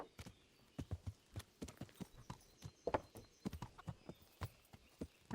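A horse in Kingdom Come: Deliverance clip-clops along at a steady walking rhythm, each hoofbeat distinct and moderately close, with no talking over it.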